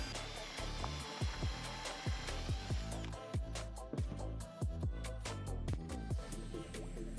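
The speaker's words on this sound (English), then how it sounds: "I then drilled 2 holes in either side of the sheet," A power drill whirs steadily up close, its motor whine accompanied by repeated rhythmic scraping pulses as the bit bites into steel sheet.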